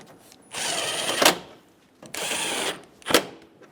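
Two bolts being driven into the top of a 2005-2015 Toyota Tacoma grille with a power tool: two separate whirring runs of about a second each, each ending in a sharp click, close and fairly loud.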